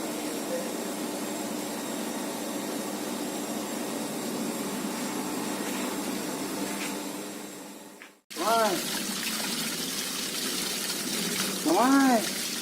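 Water gushing steadily from a Shimizu 0.75 hp well pump, loud and continuous, briefly cutting out then resuming, with voices talking over it.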